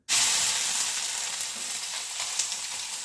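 Onion and garlic hit hot oil in a pan, a sudden loud sizzle that starts at once and keeps up as a steady bright hiss with small crackles.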